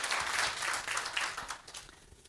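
An audience at a Zimbabwe investment event in Washington DC breaks into applause, a soft, distant wash of many hands clapping that holds steady, then thins out toward the end.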